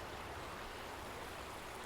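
The Savage River in Maryland, near the West Virginia border, flows with a soft, steady rushing hiss of moving water, faint and even throughout with no voices.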